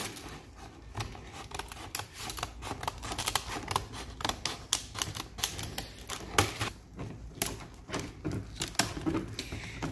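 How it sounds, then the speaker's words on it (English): Scissors snip and crinkle through stiff clamshell plastic packaging for a code reader, a rapid irregular series of sharp close cuts and rustles with no talking. "I'm just gonna cut the side off here, or just trim around all the clamshell portion of this so we can open it up."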